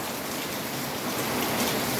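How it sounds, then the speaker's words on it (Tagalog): Heavy rain pours down in a dense, steady hiss close by, with no other sounds. "Grabe, ang lakas ng ulan."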